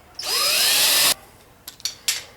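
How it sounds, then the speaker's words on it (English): A power drill whines loudly for about a second as it bores into wood, followed by a few short clicks and brief bursts of the motor. "So let's just drill the holes so we know where we're at"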